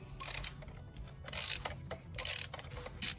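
Ratchet wrench with a 14 mm socket loosening a spark plug on a BMW 535i, a close run of rapid clicking bursts repeating several times with brief pauses between strokes.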